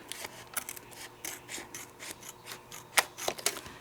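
Close, quiet scissor snips and rasping cuts as a laminated notebook cover is trimmed by hand, short irregular strokes with a few sharper clicks near the end.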